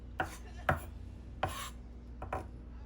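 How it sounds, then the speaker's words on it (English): Knife chopping peeled garlic on a cutting board, five sharp, sparse taps at an uneven pace, fairly quiet and close, with no one talking. "Now you can chop the garlic as finely as you want."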